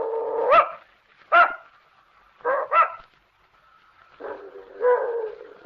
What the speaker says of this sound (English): I don't believe your dog likes me